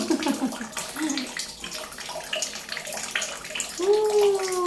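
Water splashing and running during a child's bath at home, irregular splashes and a flowing tap close by, with a voice and an adult speaking over the water.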